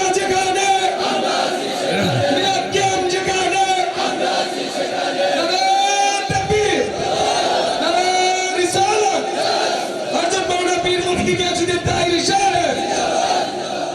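A large crowd of young men at a religious gathering roars the takbir in unison, several loud rolling waves of massed voices, close and sustained.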